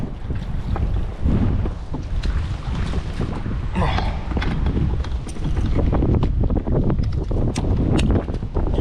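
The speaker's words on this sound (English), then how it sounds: "I am dealing with this wind." Strong wind buffeting the microphone at a creek mouth during bass fishing, a constant rough rumbling roar with gusty surges and faint water noise, loud and close.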